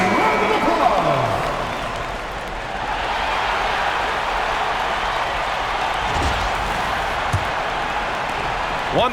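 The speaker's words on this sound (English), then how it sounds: "Give yourself a round of applause." Crowd applause and cheering fill an arena during an NBA Finals Game 7 between the Thunder and Pacers in NBA 2K25, a steady broad roar lasting throughout with faint court sounds mixed in.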